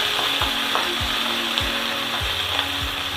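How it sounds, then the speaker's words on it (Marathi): Green chillies frying in oil with browned onion in a pan, a continuous hiss of sizzling broken by a regular series of scraping sweeps from stirring. "त्याच्यात मी मिरची टाकते थोडी, आणि त्यालाही थोडी मिरची थोडीशी भाजली।"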